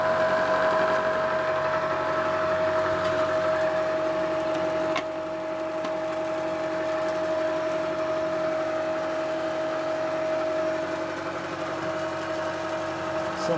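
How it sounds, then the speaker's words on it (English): A 3/4 inch fine roughing end mill cutting 4140 steel on a milling machine, taking a wide, deep bite: a steady, even machining drone with a constant high whine, continuous and moderately loud, with a slight drop in level partway through. "This is a 3/4 inch fine roughing end mill, and that's taking at least a 1/2 inch width, 1/4 inch depth of cut"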